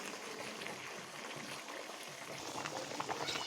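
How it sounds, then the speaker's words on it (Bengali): Rice boiling in water in a pot while cooking biryani, a steady bubbling and churning wash that holds at an even level throughout, close by with no voices. "এই ভাতটি এখানে ফুটতে শুরু করে দিয়েছে।"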